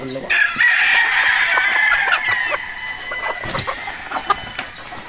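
A Joe Goode Grey gamefowl rooster crows loudly and close by, one long drawn-out call, followed by clucks and scattered clicks from other chickens nearby.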